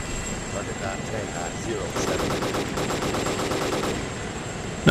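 An AH-64 Apache helicopter's machine gun fires in the Arma 2 video game, a rapid rattling burst of shots lasting about two seconds over a steady rotor and engine hum.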